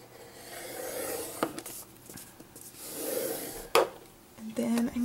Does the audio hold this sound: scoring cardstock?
yes